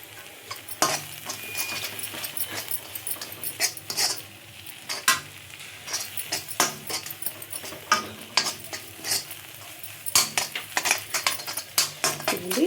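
A spoon scrapes and clinks against a plate, gathering grated coconut for a masala curry with boiled eggs, with repeated short metallic taps and scrapes over a low kitchen hum.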